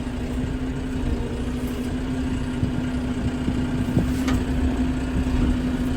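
A tractor engine runs steadily on a ranch, a constant low idling drone with a faint tonal hum, mid-distance and unchanging throughout.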